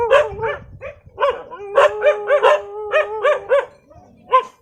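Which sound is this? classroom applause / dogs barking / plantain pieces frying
dogs barking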